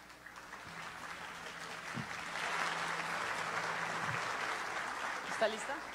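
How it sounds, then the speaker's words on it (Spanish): Crowd applause fills the room, a steady wash of clapping that holds for several seconds at moderate volume. "Un reiterado aplauso para él"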